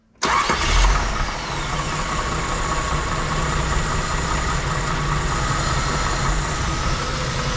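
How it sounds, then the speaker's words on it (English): A Jeep CJ/YJ with a newly swapped carburetor fires up with a quick crank and catch. It settles into a loud, steady, rumbling idle close by, with no voices over it. "I want to start this up though and show you this running."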